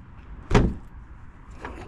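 The front trunk lid of a 2023 Tesla Model X in ultra red shuts with one solid thump close by, followed by a faint settling sound.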